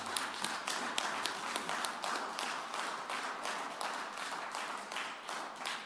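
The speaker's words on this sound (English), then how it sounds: "when you clap, I can't tell how many people are clapping or if you're just clapping loud" Audience clapping at a city council meeting, a dense steady run of hand claps with individual sharp claps standing out, moderately distant and filling the whole stretch without talking over it.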